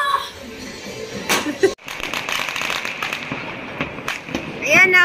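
Fireworks burst and crackle in a dense, steady barrage during a New Year display in Milan, Italy, loud and close with sharp pops and a constant crackling wash, as people talk and shout nearby.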